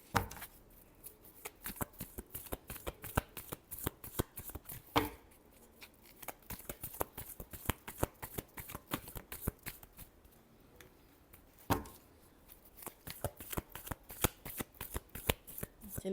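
Tarot cards being shuffled by hand, a long run of crisp rapid riffling snaps close to the mic, with brief pauses between bursts, quiet and without talk.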